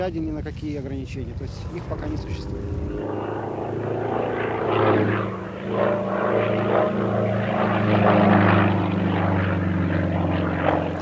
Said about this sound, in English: This modified aeroplane really has no speed limit at all.